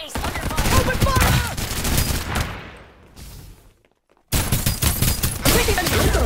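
Rapid automatic gunfire in the mobile shooter Farlight 84: dense bursts of shots, then a brief lull that drops to near silence before the firing resumes loudly.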